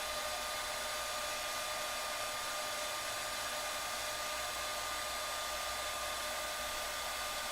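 A heat tool blows steadily for several seconds, melting embossing powder on a patriotic card, a constant airy whir with no talking.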